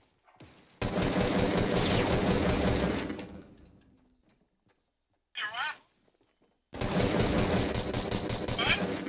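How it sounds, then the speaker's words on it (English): Bursts of rapid automatic gunfire in an online shooter game, loud and dense, breaking off into quiet with a brief sharp burst before another long volley. "someone just shot out my build"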